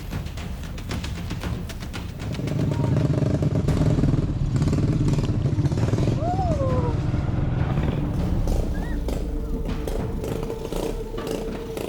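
An Indonesian ojek engkrek motorcycle loaded with cardamom on a rough rural road in Cianjur: the engine starts rattling, then revs and chugs steadily close by, with clattering from the bike and its load throughout.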